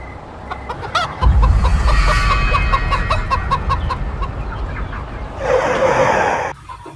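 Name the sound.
chicken clucking (animated cartoon)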